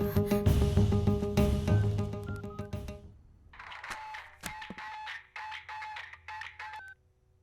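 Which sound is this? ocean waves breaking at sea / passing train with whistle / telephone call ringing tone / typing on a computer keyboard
telephone call ringing tone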